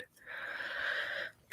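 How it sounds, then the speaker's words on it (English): Gurgling from a sip of sparkling water, a sustained bubbly, breathy rush lasting about a second, close and fairly soft, followed by a brief sharp click at the end. "because of that gurgling noise you just heard"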